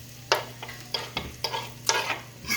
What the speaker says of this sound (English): I'm gonna add that to the frying pan over here. Come with me, Magic. Okay, I'm gonna get that nice and sizzled.